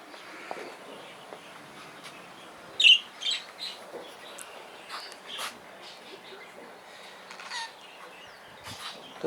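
Exhibition budgies, damp after a bath and kept near a garden aviary flight, give scattered soft chirps and twitters with a few sharper calls, moderately close over a quiet background.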